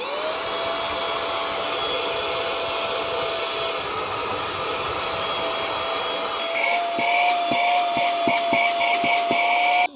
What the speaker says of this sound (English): instead of going down to find my large house vacuum cleaner, I can now use this one